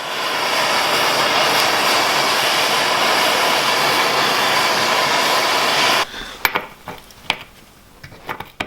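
A torch heating a seized axle nut on a tractor roars loudly and steadily for about six seconds, then cuts off, leaving a few scattered clinks and knocks.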